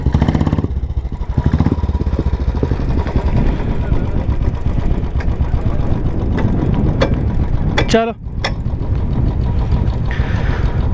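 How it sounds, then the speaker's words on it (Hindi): A motorcycle engine runs loudly and close after a crash on a winter Ladakh ride from Leh to Hanle, a steady rumble with brief mechanical clicks and a short dip. Someone speaks briefly over it. "तो बाइक तो स्टार्ट हो गई है।"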